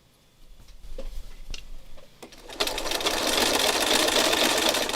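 Sewing machine stitching fabric, starting with a few clicks and thumps of hand adjustment, then running in a loud continuous buzzing whir that holds steady to the end.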